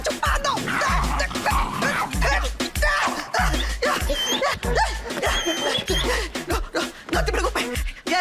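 A dog barks and yips in a repeated, rhythmic series of close, loud bursts amid scuffling and scratching, with some voices mixed in.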